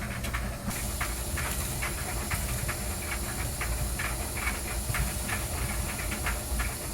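A gas water heater burner gives a steady, continuous hiss of gas from start to finish, fairly loud and even, with faint rhythmic ticking underneath.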